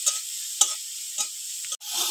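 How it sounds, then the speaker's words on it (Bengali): Prawns shallow-frying in hot oil with salt and turmeric in a home kitchen, giving a steady sizzling hiss broken by a few short stirring scrapes, close and moderately loud with no talk. "এবার চিংড়ি মাছটা হালকা করে ভেজে নেব।"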